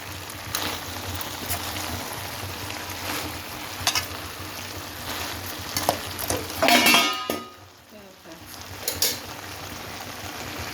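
A spoon stirs a brinjal and potato curry in a pot, with scattered clinks and scrapes against the metal and a louder clatter burst near the middle before a brief quiet.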